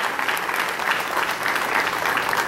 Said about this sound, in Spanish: Ciudadano Francisco Jiménez Macedo, regidor primero, para quien ofrecemos calurosos aplausos